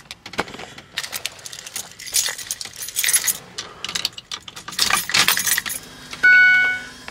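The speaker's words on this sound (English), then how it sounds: "oh, the keys are in my pocket" Metal keys jangle and clink in a pocket, with repeated bright rattling bursts at close range beside a vehicle with a non-VGT 6.0 Powerstroke diesel, ending with a short electronic tone.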